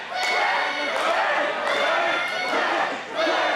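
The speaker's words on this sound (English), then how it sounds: "Trying to get the crowd to clack along" Wrestling crowd at a New York Championship Wrestling show clapping and shouting along in a dense, continuous roar, with rhythmic clacking bursts recurring about every second under the crowd noise.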